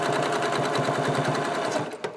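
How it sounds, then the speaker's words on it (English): A sewing machine quilting a woodgrain pattern, stitching in the ditch, runs in a steady fast rhythmic whir of close, loud stitches that slows and stops near the end. "I'm just going to kind of stitch in the ditch a little bit"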